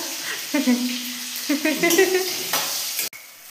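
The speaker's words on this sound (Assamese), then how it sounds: "প্ৰথমতে আমি আলুখিনি ভাজি ল'ব লাগিব" Potatoes fry in a pan with a soft, steady sizzle, punctuated by stirring scrapes and a sharp utensil knock near the end, while a person talks over it.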